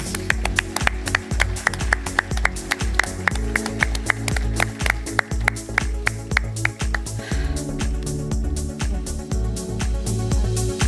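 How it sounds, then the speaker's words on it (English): Steady, even rhythmic clapping from an audience at the News9 Global Summit Germany Edition, with sharp claps holding a regular beat throughout over a low background hum. "Ladies and gentlemen, huge round of applause."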